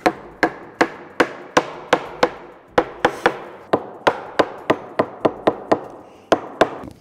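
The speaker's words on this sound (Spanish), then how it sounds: "Nos vamos a ayudar de nuevo del martillo de nylon." Sharp, knocking taps of a nylon mallet on wooden table pieces repeat in an uneven rhythm, about twenty strikes, close and loud with short decays.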